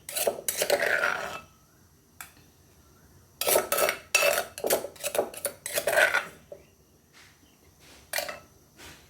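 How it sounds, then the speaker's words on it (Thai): Metal spoon clinking and scraping against a bowl while spicy Thai seafood dipping sauce is ladled out, in bursts of close, bright clatter with quiet pauses between. "แล้วก็ตักใส่ถ้วยรอเลยนะคะ"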